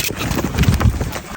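Horses' hooves clip-clopping outdoors as they are prepared for a drive down from Tusheti, a brief run of close, uneven hoofbeats with some wind noise.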